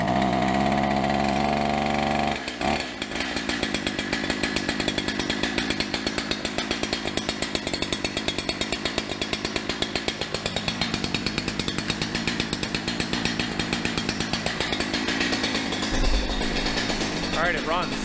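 Holzfforma 372xp chainsaw engine running after being flooded, started with no choke and full throttle; a loud, close, rough two-stroke roar that holds steady with uneven revving, and a voice speaks briefly.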